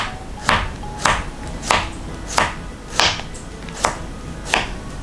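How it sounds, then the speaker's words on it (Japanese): A knife slices a cucumber thinly on a cutting board, giving seven crisp, evenly spaced chops about every half second, close and clear with no talking. "キュウリを切っていきます。"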